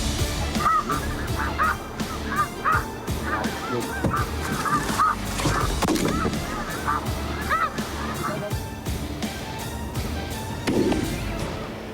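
Geese honking repeatedly over gusty wind noise during a spring goose hunt in Québec, several birds calling in irregular bursts throughout.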